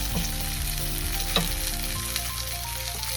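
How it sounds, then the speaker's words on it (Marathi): A stuffed pomfret fish fries in oil in Koli style, a soft, steady sizzle with faint crackles and one brief utensil clink, heard close and quiet with no talking. "तर बघा कसा पॉम्फ्रेट आपला दोन्ही बाजूनी कसा व्यवस्थित असा फ्राय झालेला आहे"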